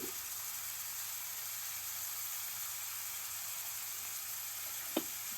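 Onions, curry leaves and salt sautéing in a pan: a steady, even sizzle and hiss throughout with one brief clink near the end, close and unbroken, no talking.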